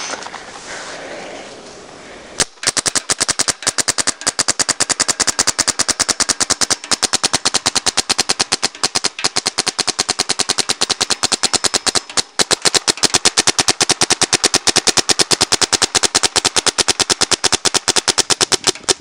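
An Invert Mini paintball gun fires in long rapid bursts of sharp, close, loud pops that run almost continuously, with brief pauses between strings.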